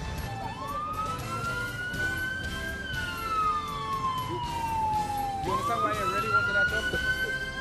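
A wailing siren sweeps up and down in long rising and falling tones, clear and fairly close, over a low background rumble of traffic.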